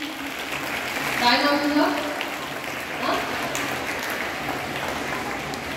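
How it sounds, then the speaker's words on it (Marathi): Children clapping at a school Independence Day program, a steady patter of applause that swells briefly in the middle, heard with an adult and someone talking over it. "टाळ्या वाजवा सगळ्यांनी"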